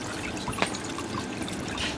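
Water poured over fish as they are washed in a kitchen, a continuous close splashing trickle with a brief sharper splash partway through.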